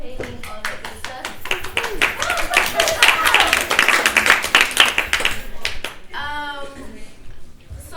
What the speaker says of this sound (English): round of applause for all of you guys for showing up and contributing, participating